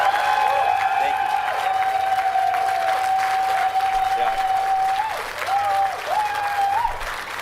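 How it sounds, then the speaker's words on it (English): A crowd at a live election-night event applauds steadily for the candidates who ran, a sustained, fairly loud wash of clapping with a tonal hum running through it. "we can get a round of applause to every single candidate that ran for us."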